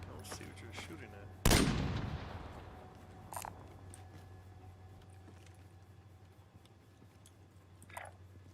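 Call of Duty video game gunfire, one sharp loud shot that dies away slowly against a low steady hum, followed by a few fainter distant pops.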